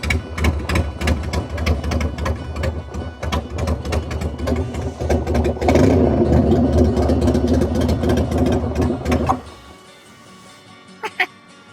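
A motorcycle engine fitted with a 3D printed air filter runs close by, a loud, busy rattling chug that swells briefly, then cuts out, leaving near silence with a couple of small clicks.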